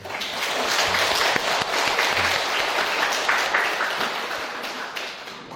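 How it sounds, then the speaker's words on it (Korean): Sustained applause from a Catholic Mass congregation, a steady wash of many hands clapping that holds for several seconds before easing slightly at the end. "우리 이분들 위해서 환영의 박수."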